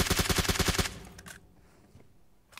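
Rapid automatic gunfire in PUBG Mobile, a tight string of about eight loud shots in quick rhythm, followed by quieter distant shots and a faint final crack.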